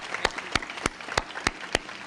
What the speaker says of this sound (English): So if we could give her a round of applause, I think that would be really great.